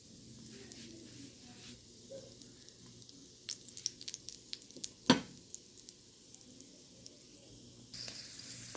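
Hotdogs fry in a pan with a soft, steady sizzle, a few light clinks as they are turned and one sharp knock near the middle, with no talking.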